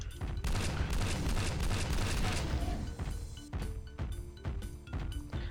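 Rapid weapon fire from the Doom mod Hearts of Demons, a dense barrage of loud booming shots that runs without a break for about three seconds and then turns into separate heavy blasts at a steady beat.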